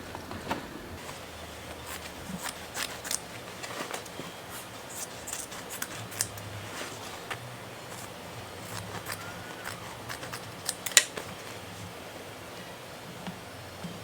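Scissors snipping through a torn bag with a broken zipper, cutting a section out to reuse: quiet, scattered clicks and soft rustling of material, no talking.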